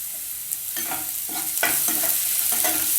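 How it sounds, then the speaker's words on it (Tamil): Potatoes, beans, ginger and garlic sautéing in a pan, a continuous close sizzle broken by several scraping stirs of a spoon, growing slightly louder, with no talking. "இப்போது இஞ்சி பூண்டு போட்டுக்கோங்க."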